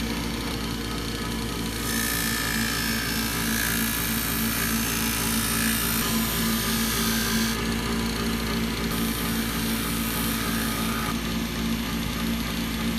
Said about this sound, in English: So this is how I hone chisels and plane irons. I use a buffing wheel.